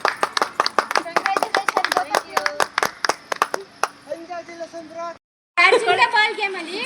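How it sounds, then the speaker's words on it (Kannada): Children and adults at a birthday party clap for the winners of a balloon game, with a rapid run of sharp, close handclaps that thins out, followed by talking voices. "ಸೊ ಜೋರಾಗಿ ಚಪ್ಪಾಳೆ ಹೊಡಿರಿ ಎಲ್ಲರೂ."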